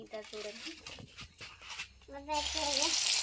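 Ground masala paste tipped into a hot pan for village-style egg curry, bursting into a loud, steady sizzle with stirring scrapes, preceded by a voice talking.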